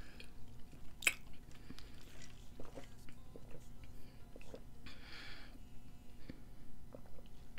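Chewing food, likely a burger and fries from a fast-food burger restaurant, heard close to the microphone as soft wet bites and squishy mastication repeating through the clip, with faint breaths and quiet murmurs between chews.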